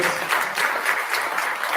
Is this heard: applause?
yes